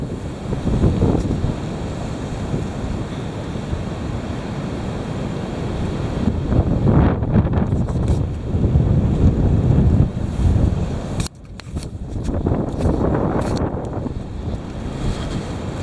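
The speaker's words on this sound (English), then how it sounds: "Sure is windy out here." Heavy wind blows hard outdoors, a loud steady roar buffeting the microphone throughout, with a brief dip and gusty surges toward the end.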